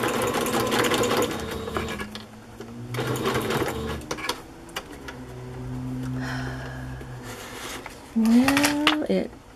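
A domestic sewing machine runs a straight stitch in several bursts, its rapid mechanical whirring and clatter starting and stopping, with a pause between runs and a short high-pitched spin near the end.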